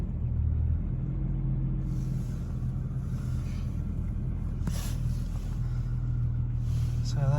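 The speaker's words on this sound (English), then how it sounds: "it's idling nice and steadily" A Jaguar XJS 3.6 engine idles with a steady low rumble close by, smooth and even throughout, with a little background noise near the end.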